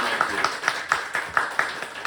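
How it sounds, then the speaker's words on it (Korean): A church revival audience claps in a steady rhythm of about nine even claps. The clapping is moderately close and fairly faint, with a little room noise between the claps. "우리 되게 잘했어. 박수 주세요."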